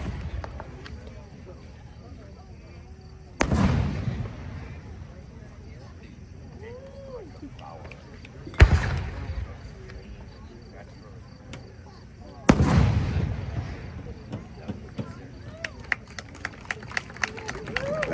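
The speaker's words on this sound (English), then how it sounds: "his shell is a 5-inch lavender green tail and effect" Five-inch lavender green tail fireworks shells fired in pairs at a pyrotechnics competition, with three heavy booming launches or bursts spread several seconds apart over outdoor crowd noise, then a run of sharp crackling pops near the end.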